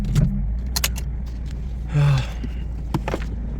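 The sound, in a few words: Nissan 370Z engine shut off, keys jangling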